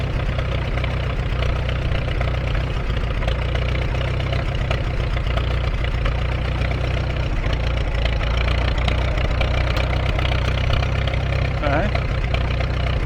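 A Farmall M tractor engine runs steadily close by, a low continuous chugging drone that carries through the whole stretch.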